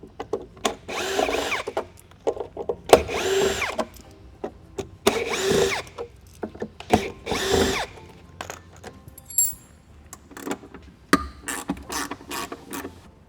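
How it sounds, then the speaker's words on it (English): A battery drill backs screws out of aircraft wheel spats on a Jabiru, firing in short whirring bursts of about a second or two, separated by pauses, clicks and handling clatter, close and fairly loud. "but for this purpose we'll use the drill."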